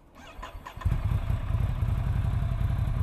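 A Ducati Monster 797 with a Termignoni exhaust cranks briefly, then catches and settles into a loud, deep, steady idle, close by.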